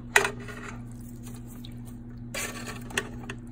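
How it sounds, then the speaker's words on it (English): A spoon stirs a pot of green beans with Italian tomatoes, bacon and chili powder, making two brief faint scrapes and clinks, one near the start and one near the end, over a steady low kitchen hum. "so let's just stir this up"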